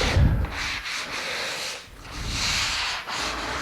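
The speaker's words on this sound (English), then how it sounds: "We can do more scuffing once we've got more material." Hand scuffing of a light first coat of wood finish on a corner cabinet, a steady rough sanding rub with rhythmic back-and-forth strokes, close and fairly loud, with no talking.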